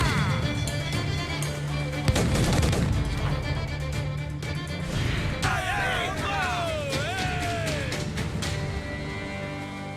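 Ship cannons boom in a naval battle in Assassin's Creed IV: Black Flag, with loud overlapping blasts and rumbling impacts over constant ocean and wind noise, while voices shout orders throughout.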